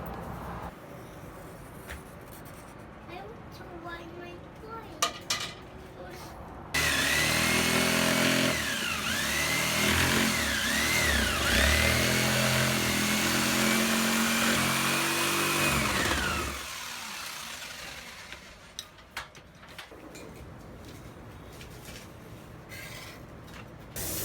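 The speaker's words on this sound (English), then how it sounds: "having to kind of saw out a little bit more of the wood countertop" A power saw cuts out part of a wooden countertop to fit a new sink in an RV kitchen, a loud continuous buzzing whine for about ten seconds, with quieter clattering before and after.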